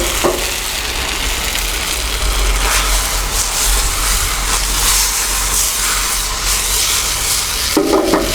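Chinese salt and pepper beef stir-frying in a pan, a steady loud sizzle and hiss that runs throughout, with occasional scraping knocks near the end and no speech.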